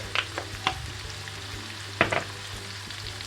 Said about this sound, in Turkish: Güzelce karıştırıyoruz.